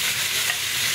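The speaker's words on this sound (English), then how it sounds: "And I got about a pound and a half of medium shrimp. I'm going to throw them in there. Get them frying." Medium shrimp frying in a pan, a dense bright sizzle with stirring, loud and close with no voices.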